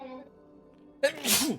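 A single sharp sneeze bursts out after a brief spoken word, loud and close, with a breathy tail.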